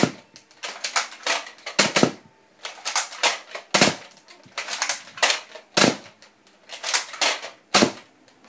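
Two Nerf Strongarm blasters fired dual-wielded give a string of sharp, close clacking shots with priming slides in between, coming in quick uneven bursts and clear of any talk.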